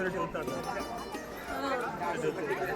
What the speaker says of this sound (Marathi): मंगळवार असल्या कारणाने आज गर्दी आहे